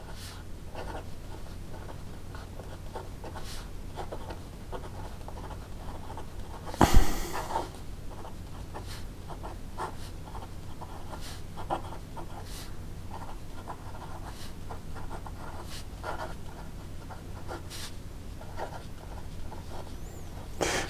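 A Papier Plume flex pen scratching across paper in short, quiet strokes with pauses between words, close and faint, with one louder rustle or bump partway through.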